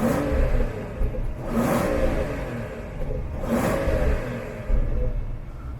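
A BMW 760Li M Sport with the N74 V12 engine revs in Sport Plus mode, rising in two sharp blips over a steady idle, nearby and fairly loud, with light pops after each rev.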